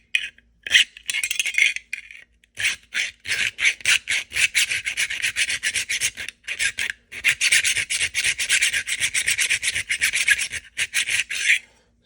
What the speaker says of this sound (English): What I've always done is either take a Dremel or a file